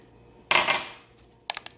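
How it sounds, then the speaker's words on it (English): A utensil stirs a milk mixture in a skillet, giving one close burst of scraping and clinking followed by a few quick light taps against the pan, with no voices. "Stir again. Get everything mixed in well together."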